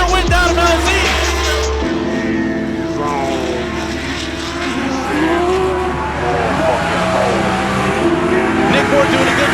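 Drift cars racing through the outer zone of a drift series round, engines screaming loud and near with rising and falling revs, tire noise beneath, under continuous commentary.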